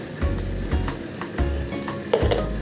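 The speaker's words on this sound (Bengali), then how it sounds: "চিংড়ি মাছগুলো পেঁয়াজের সাথে এভাবে লাল লাল করে ভেজে নিতে হবে" Prawns fry with onions and spices in a pan, giving a steady sizzle broken by a few soft stirring scrapes and light metallic clinks.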